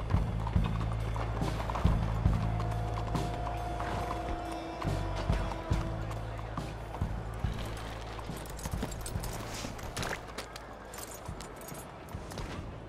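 Horses trotting in Red Dead Redemption 2, a steady clip-clop of hooves with faint tack jingling, close and continuous, slowing toward the end under light outdoor ambience.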